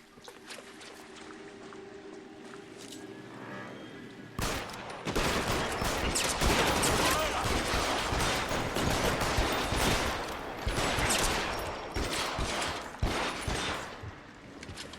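Sustained gunfire in the 1940s Los Angeles detective game L.A. Noire, a quiet ambient lead-in giving way to a loud, dense barrage of rapid overlapping shots that continues steadily to the end, with no talk.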